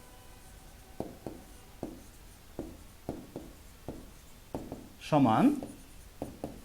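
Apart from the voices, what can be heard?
writing by hand during a math lesson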